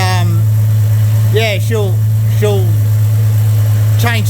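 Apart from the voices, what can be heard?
Dodge VJ ute engine idling through 2-inch exhaust with muffler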